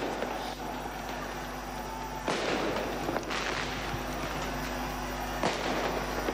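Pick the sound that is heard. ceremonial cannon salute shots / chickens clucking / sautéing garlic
ceremonial cannon salute shots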